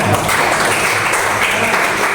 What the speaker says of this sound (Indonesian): Ya, tepuk tangan Rina.